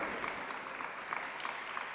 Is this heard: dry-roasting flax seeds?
no